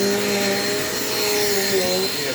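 A Dirt Devil Quick Power vacuum cleaner runs steadily and loudly in a home kitchen, a continuous motor whine with a slight wavering pitch and no talking.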